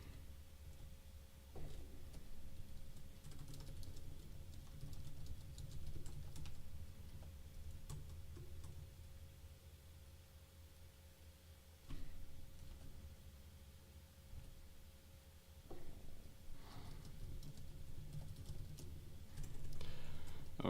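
Someone typing on a computer keyboard while scripting in Roblox Studio, quiet irregular bursts of clicking keys with brief pauses between runs, close and soft, alone with no talk.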